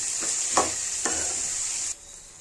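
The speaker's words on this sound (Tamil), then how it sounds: "இப்போ எல்லா காய்கறியும் சேர்த்து இதில் நல்லா வதக்கிக்கலாம்" Vegetables for bisibelebath sizzle steadily in a hot pan, with a few scraping stirs of a spoon; the frying hiss cuts off abruptly near the end.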